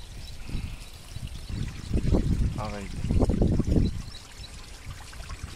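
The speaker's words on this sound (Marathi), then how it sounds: "आणि ऑटोमॅटिक पाणी लागलंय पंपाला" After heavy rain, water trickles and splashes out of a hand pump on its own without pumping, a soft uneven dribble heard beneath someone talking nearby.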